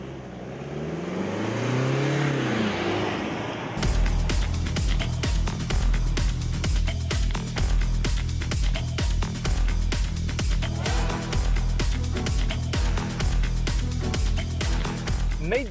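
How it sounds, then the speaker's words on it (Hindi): A new Mercedes GLC on a test drive: sweeping engine and road noise builds at first, then continuous driving sound runs under a steady, rhythmic backing. "लेकिन गाड़ी चलाने में कैसी है, चलिए वो भी देख लेते हैं।"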